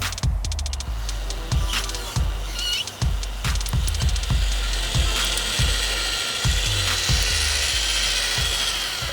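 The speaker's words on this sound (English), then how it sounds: "then when you do that, just go ahead and drill." A power drill buffs scratches out of motorcycle paint, its whir running in short, repeated bursts with a regular stop-start rhythm, close and fairly loud.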